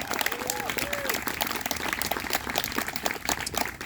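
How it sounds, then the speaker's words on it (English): A crowd applauds a guard instructor at a high school band awards ceremony: sustained, crisp clapping from many hands in a hall, steady throughout with a murmur of voices underneath. "So give a round of applause for our guard instructor"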